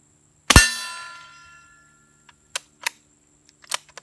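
Suppressed pistol fired with Remington ammunition: one sharp, ringing crack that decays over a second, followed by several fainter, distant metallic pings from a steel target.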